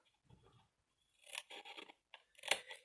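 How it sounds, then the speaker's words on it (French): Scissors make a few quick, faint snips through a folded scrapbook page tab, cutting it at a slight angle. A soft rustle comes first, then two short bursts of close cutting. "Il faut que je la coupe et je vais même la couper légèrement en biais."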